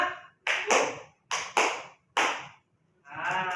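Hands clap out a five-beat classroom pattern, with sharp, close claps grouped two, two, then one, followed by a softer, rustling sound.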